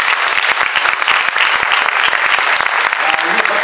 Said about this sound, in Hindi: बच्चों के लिए तालियां